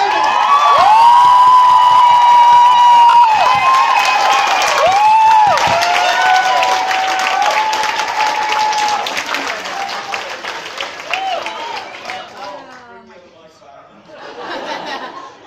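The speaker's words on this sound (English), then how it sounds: "Give it up for Paul!" Loud applause and cheering from a crowd, with whoops and shouts, fading out gradually before a brief final burst of clapping.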